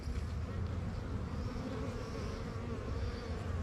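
Honeybees hum around an open hive during hive inspection in a continuous, close buzzing drone, steady and unbroken throughout.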